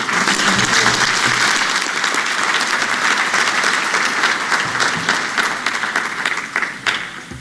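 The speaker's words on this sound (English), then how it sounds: "If we can give just another rousing round of applause for our panelists" A conference audience gives the panelists a sustained round of applause, dense and loud at first and tapering slightly toward the end, with faint voices underneath.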